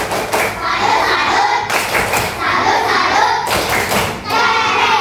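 A classroom of children performs a rhythmic clapping pattern, loud and close, with repeated bursts of hand claps and thumps in a group rhythm, children's voices mixed in.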